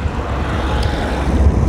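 Wind buffets a microphone during a bicycle ride near Kanyakumari, a low rumbling gusty roar that swells and fades, loud and close throughout.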